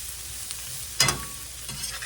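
Green beans with salt, pepper and minced garlic stir-fry in a hot pan, holding a steady close sizzle with one loud burst of hissing and clatter as they are tossed.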